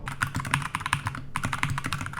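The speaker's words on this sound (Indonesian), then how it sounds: "Ngetik." Rapid, steady typing on a Royal Kludge RK68 mechanical keyboard fitted with a custom case: dense, close clicks and clacks with a brief pause midway, no voices.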